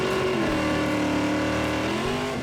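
A 1960s-style racing car engine roars loudly and continuously, holding a steady harmonic drone with a slight dip and rise in pitch near the end.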